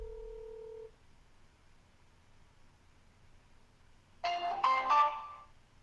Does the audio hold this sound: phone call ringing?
yes